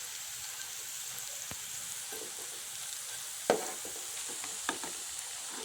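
Food frying in a pan gets stirred, a quiet steady sizzle with a few soft scraping knocks of the spoon against the pan, close and without talk.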